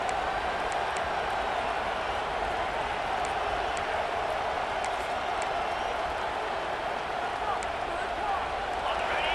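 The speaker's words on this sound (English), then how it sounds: "This crowd bringing the energy and noise early" Steady roar of a football stadium crowd during a Nebraska game, a dense continuous wash of noise at even loudness throughout, with no clear voices standing out.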